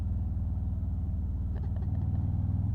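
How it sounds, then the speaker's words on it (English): A motorcycle engine throbs in a tunnel, a close, pulsing low rumble with rapid rhythmic firing and a slight rise in revs, no speech over it. "It's fun to go through tunnels and rev your engine."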